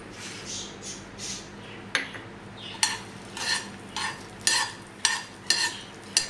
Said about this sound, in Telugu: ఇప్పుడు ఇందులో ఆవాలు మెంతులు జీలకర్ర వేసుకుందాం